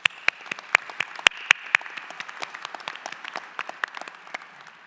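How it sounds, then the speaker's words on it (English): Graduation ceremony audience clapping for the graduates' family members and friends at a doctoral hooding ceremony, a brief round of sharp, uneven claps that thins out, with no speech. "let's give our family members and friends a round of applause for supporting you all"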